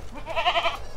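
Goat bleating on a natural goat farm where the animals are fed only lead tree (leucaena) leaves, a single close, wavering bleat lasting under a second with no talk.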